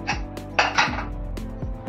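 A steel pressure cooker is set down on a gas stove in a home kitchen, giving a few sharp metallic clanks and scrapes, loud and close, with short gaps between them.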